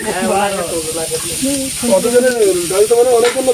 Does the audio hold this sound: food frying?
yes